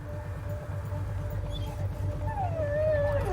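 A dog whimpers in a scene from the TV show Hannibal, giving a thin, rising and falling whine near the end over a steady low background drone, with no talk.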